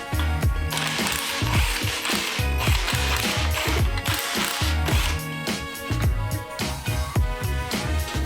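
A ratchet wrench works on a car engine during a motor teardown, sounding as a loud, continuous run of rapid mechanical clicks and ratcheting over a dense, busy background with no talking.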